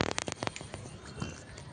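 Unseasonal storm rain and strong wind sweep across a rooftop under clouded sky, a dense, loud wash of noise with sharp pattering bursts at the start and no voices.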